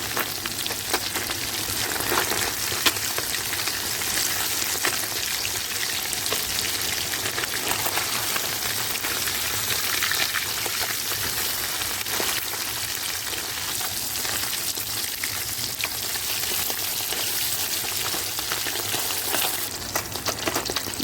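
Bata fish pieces lightly frying in hot oil in a pan give a steady, even sizzle and crackle throughout, close and moderately quiet, with no talking.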